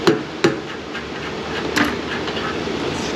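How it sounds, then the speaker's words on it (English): A ratchet wrench works loose a bolt on the exhaust Y-pipe of a Chrysler with a Pentastar 3.6 engine. A few sharp metallic knocks and clanks stand out against a steady background hiss in a garage. "We'll just ratchet wrench this thing off of here"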